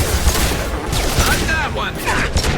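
Rapid bursts of gunfire from the Mass Effect 2 video game crackle across a short, loud stretch, with chattering shots layered over a low rumble and bits of game voice mixed in.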